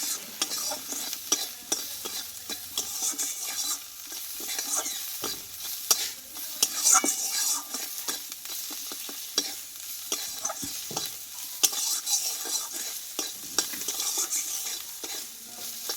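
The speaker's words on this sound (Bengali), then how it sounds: "দেখো বন্ধুরা এখানে কিন্তু মশলাটা আমার ভাজা হয়ে গেছে" Spice paste for a puti fish curry sizzles and spits in a hot pan while a spoon stirs and scrapes through it in a steady, busy rhythm, with no talking.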